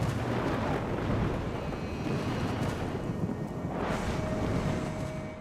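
Thunderstorm rumble in a violent tropical storm over the intertropical convergence zone: a continuous, loud, broadband roar with wind-like buffeting and no clear individual thunderclaps, and no voices.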